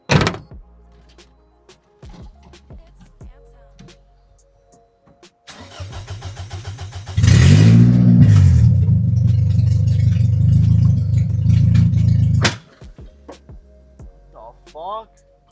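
A Scion xB's engine cranks with a rhythmic starter churn, catches into a loud, rough idle for several seconds, then cuts out abruptly and stalls, followed by quiet clicks. A person speaks in places.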